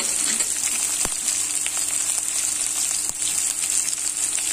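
Shallots and curry leaves sautéing in oil for brinjal masala, a steady close sizzle with a couple of faint clinks.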